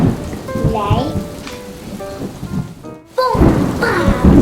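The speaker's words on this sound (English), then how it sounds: "The thunder became louder." Loud thunder rumbles and cracks through a heavy thunderstorm with steady rain. After a brief near-silent gap, a sharp, booming clap follows, with rain hissing throughout.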